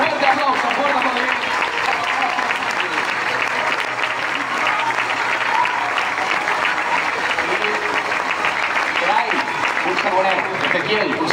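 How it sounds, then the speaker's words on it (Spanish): Loud, sustained crowd applause at a football club's official team presentation, dense clapping that continues without letup, with voices in the crowd mixed underneath. "¡Fuerte aplauso, fuerte aplauso!"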